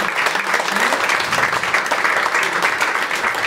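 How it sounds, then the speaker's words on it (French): An audience applauds the young rugby players at a rugby show in Morlaàs, producing loud, sustained clapping that fills the room. "que podem applaudir la jeunesse"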